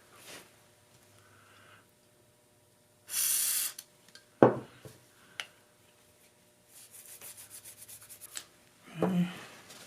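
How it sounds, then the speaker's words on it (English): Cloth rubbing and wiping over Mossberg 500 12-gauge pump shotgun parts during cleaning, with a few soft scrubbing bursts, light knocks as pieces are set down, and quiet stretches between. "Alright, start wiping it down."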